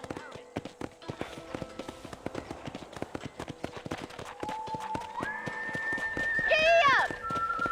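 Steady, rhythmic hoofbeats of a running horse in Red Dead Redemption, with synthetic electronic tones and a rising chime layered over the galloping.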